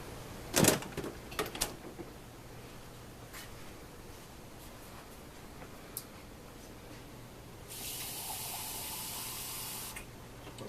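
A kitchen tap runs briefly, a soft steady hiss of water near the end after a few clinks and knocks in a quiet room.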